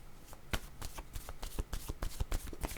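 Playing cards being shuffled and drawn during a card reading, a dense run of soft riffling flicks and slaps up close, steady and quiet with no speech.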